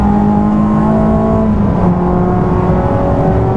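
Car interior during a brake bedding-in run, with the engine droning loudly and steadily as it accelerates, pitch climbing slightly under constant road and wind noise.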